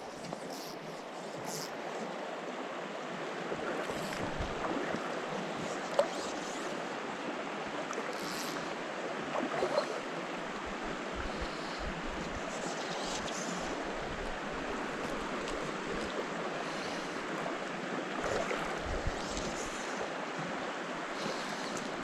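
Flowing water of the Howqua River makes a steady, broad rushing wash that runs evenly throughout, with occasional soft splashes and a little wind noise.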